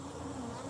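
Agitated honeybees swarm loudly at an opened hive lid, a dense steady buzz with a strong low hum, close and continuous.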